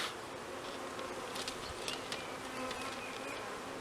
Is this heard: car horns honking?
no